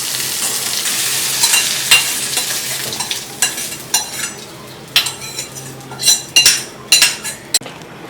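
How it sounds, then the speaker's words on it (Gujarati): A metal spoon scrapes and clinks against a pan as sautéed fenugreek leaves are scooped into a bowl, with a soft sizzle underneath. Repeated short scrapes grow sharper and more frequent toward the end, close and with no voices. "હવે આપણે જે મેથી હતી તેને આમાં લઈ લીધી છે।"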